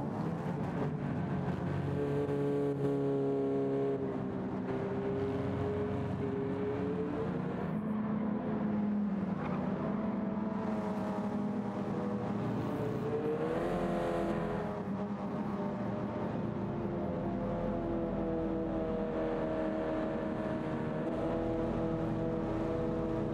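A Subaru BRZ racing on Trial Mountain in Gran Turismo 7, its engine revving and shifting continuously with rising and falling pitch, loud and close throughout.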